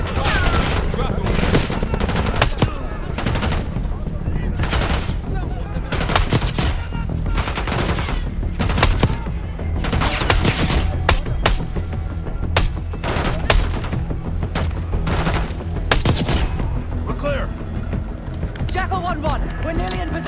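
A shooting video game erupts with loud, dense bursts of automatic gunfire and single shots, clattering almost without pause under shouted voices.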